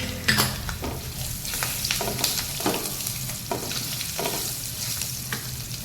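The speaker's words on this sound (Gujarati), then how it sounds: "હવે પહેલાં લસણ એડ કરી દેવાનું." Garlic fries in oil in a pan over full gas flame for Hyderabadi paneer, a close, steady sizzle broken by several rhythmic stirring scrapes and spatula taps.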